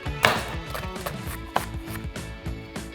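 Knife chopping onion on a board for chimichurri, a run of quick, fairly close cuts in an uneven rhythm, with one sharper hit near the start.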